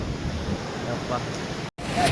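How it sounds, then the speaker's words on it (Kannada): Waves rolling onto Murudeshwar beach in coastal Karnataka make a continuous, even roar of surf with some wind, and people talk nearby as it goes on. "ನೀರು ಸಂಜೆ ಬಂದಾಗ ಅಲ್ಲಿತ್ತು ಬಟ್ ಇವಾಗ ನೋಡಿ ಅಲ್ಲೇ ಇಲ್ಲಿಗಾನ ನೀರು ಬರ್ತಾ ಇದೆ"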